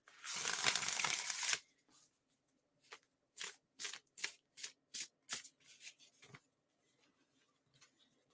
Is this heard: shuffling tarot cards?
yes